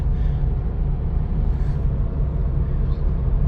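A 2014 BMW 330d xDrive engine idles with a steady, loud low rumble and a faint buzzy, moped-like rattle riding on top, continuous throughout.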